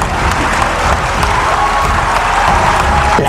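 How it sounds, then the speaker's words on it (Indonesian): An audience at a speech gives a short, subdued round of clapping that stays steady and fairly loud for a few seconds without cheering. "Kok tepuk tangannya tidak bersemangat?"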